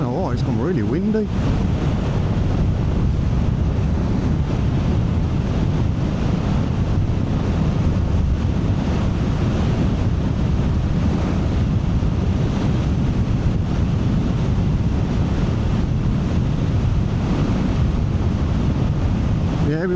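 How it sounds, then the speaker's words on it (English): Strong coastal wind buffets the microphone near the Great Orme in Wales, a loud continuous roar with surf-like rumble that never lets up for twenty seconds. "Really windy."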